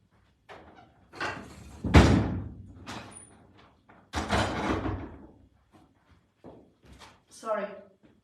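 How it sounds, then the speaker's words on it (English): A door bangs indoors with two heavy, booming thuds a couple of seconds apart, surrounded by smaller knocks and rattles, and a brief voice sounds near the end. "how annoying is that door?"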